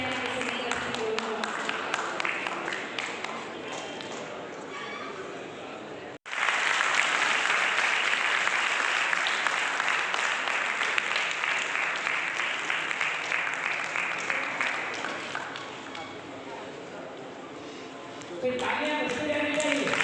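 Loud, sustained applause from a large audience at the fourth founding anniversary of the Salute Tiranga Foundation. It breaks off for a moment and then resumes at full strength for most of the stretch, with a voice speaking over it near the end.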